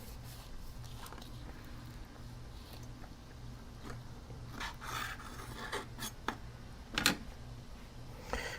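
A knife saws a bacon, egg and pickle sandwich in two, giving soft scraping crunches in short bursts, faint and close against a quiet room.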